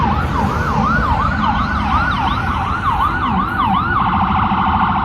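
Ambulance siren wailing in a repeating up-and-down sweep as it passes close by an open field, loud and steady over road noise, with no talking.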